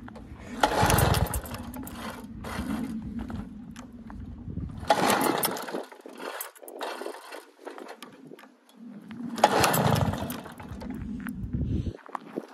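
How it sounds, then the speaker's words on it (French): A Motoconfort N40T moped is kicked over in repeated attempts to start, with three bursts of rough mechanical engine noise separated by quieter pauses, close by with no talking. "sur les images et le son de la mobilette. Je vais essayer de la démarrer"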